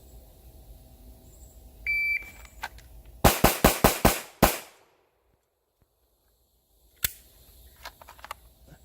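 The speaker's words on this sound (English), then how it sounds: "We'll just run the magazine out." A magazine emptied at the range: a brief electronic beep, then six rapid sharp gunshots in a tight string, a pause, and one more shot later, loud and close with short echoes.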